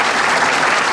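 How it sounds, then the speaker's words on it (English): Studio audience applause on The Zodiac Game show, greeting the evening's champion: dense, steady, loud clapping from a large crowd that fills the whole moment without letup. "Round of applause"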